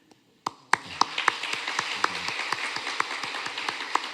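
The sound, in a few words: church congregation applause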